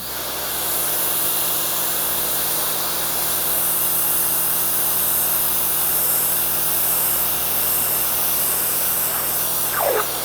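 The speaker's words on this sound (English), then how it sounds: "Pressure washing is so satisfying." Continuous loud hissing spray over a steady motor drone from a Sun Joe SPX3000 electric pressure washer, unbroken throughout.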